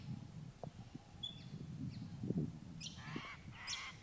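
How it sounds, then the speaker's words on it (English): Faint outdoor ambience in Western Australia with insects, scattered bird calls and honking cries, soft chirps, and a low background hum. "Just insects and birds."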